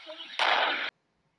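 A firecracker goes off in a school toilet: a loud, sudden burst that sustains for about half a second, then cuts to silence, following a brief murmur of voices.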